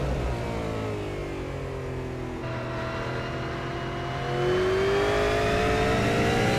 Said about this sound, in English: Listen to the throttle, just a slight lift.